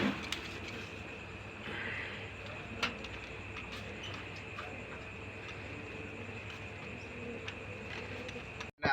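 Pigeons on a breeding farm, kept as egg-laying and racing pairs, coo softly and continuously under a steady ambient hum, the calls faint and blended into the background.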